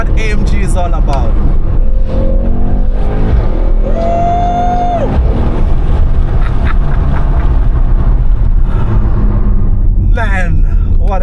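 A Mercedes-AMG GT63 S 4-Door Coupe with a 9G multi-clutch transmission driving, its engine a loud, deep rumbling growl with rising revs and gear changes, heard steadily from inside the car beneath someone talking.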